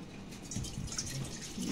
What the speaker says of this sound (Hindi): ये हमने इसमें पानी डाल दिया।